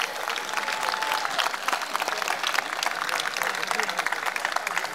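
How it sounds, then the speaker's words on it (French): Audience applauding volunteers of the Doudou procession at the Ducasse de Mons: dense, steady clapping from a large crowd lasting throughout, loud and close, with scattered voices mixed in. "je vais vous demander, si vous voulez bien, de les applaudir"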